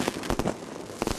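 Fireworks bursting over Beijing at Lunar New Year, a rapid series of sharp cracks and booms at close range with no one talking.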